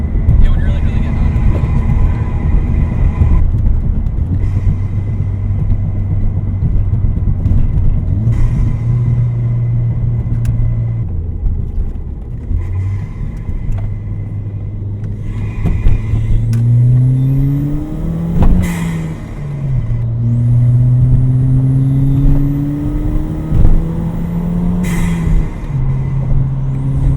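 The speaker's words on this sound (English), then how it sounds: "when you get on it like full throttle, I feel like the exhaust kind of takes over a little more" Car fitted with an extremely loud aftermarket intake and a prominent exhaust accelerating at full throttle: a heavy, droning engine roar that climbs in pitch through repeated gear pulls, loud and close throughout.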